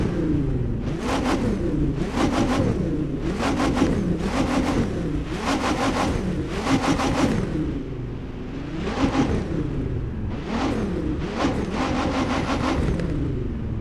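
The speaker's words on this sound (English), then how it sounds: "we will do a couple revs and listen to the car" Engine of a blue Nissan Skyline R34 GTR in the racing game The Crew 2 revving repeatedly while parked, about eight sharp throttle blips rising and falling in a steady rhythm, loud and close with no talking.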